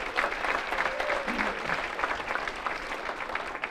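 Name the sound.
audience applause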